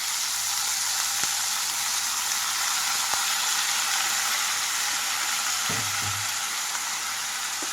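Onions, tomatoes and fenugreek leaves fry in a pan with a loud, dense, continuous sizzle and hiss, plus a couple of brief clicks and a low scrape of stirring late on.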